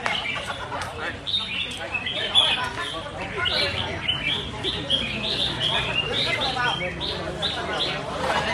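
Caged songbirds at a bird-singing competition chirp in repeated high, bright calls through a dense crowd din, while an announcer and other people talk nearby.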